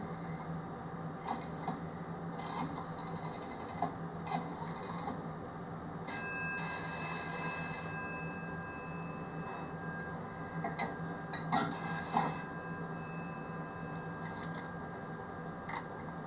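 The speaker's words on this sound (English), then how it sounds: "I can actually ring the phone next to it and demonstrate it ringing the other phone" A telephone bell rung through a PBX extension by an adjacent phone, heard as bursts of metallic ringing and ticking clatter over a steady background hum in a shed workshop.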